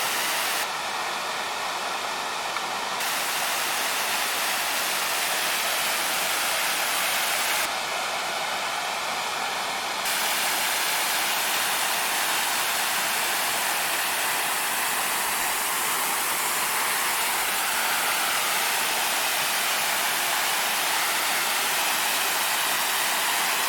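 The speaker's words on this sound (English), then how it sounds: "I see this waterfall, and normally this would be the kind of waterfall I'm hiking to" Steady, loud roar of a waterfall beside a creek trail at Fall Creek Falls, a continuous broadband rush of falling water with no voices over it.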